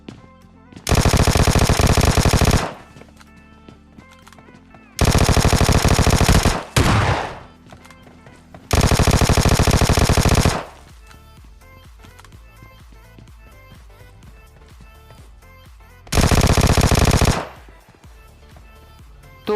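PUBG Mobile gunfire knocks out an enemy squad: four loud, sustained bursts of rapid automatic fire, separated by short lulls of quieter in-game background sound.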